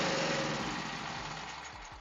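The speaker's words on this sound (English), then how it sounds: "let's start the generator first so you guys can see how the generator is operating" A WEN 4750 portable generator, one that starts and then dies after a few seconds, runs with a loud steady engine drone that slowly fades in level, heard up close with no talk.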